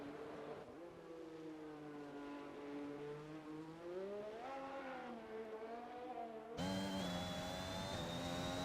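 A race car engine in a sim racing game on the Belgium circuit climbs in pitch through gears, with rising whines broken by clean upshifts and a sharp jump to a louder onboard sound near the end, heard alone without talk.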